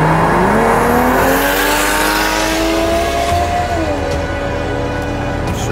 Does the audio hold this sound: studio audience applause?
no